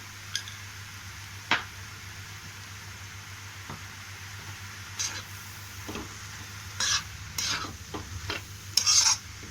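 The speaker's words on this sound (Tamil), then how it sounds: "அப்படியே தான் வதக்குறேன்." Chicken fried rice with pepper stir-fried in a pan: a low sizzle broken by sporadic scraping strokes and sharp metallic clinks of the spatula, growing busier toward the end, close and without speech.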